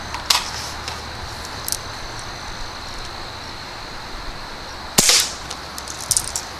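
A BB gun fires Umarex steel BBs through a chronograph: a few sharp, snappy shots stand out over a low steady background hiss, with one louder crack partway through and no talking.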